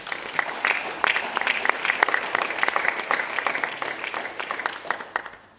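An audience applauds at a culture awards ceremony, dense sustained clapping from many hands in a large room, rising quickly and fading out at the end.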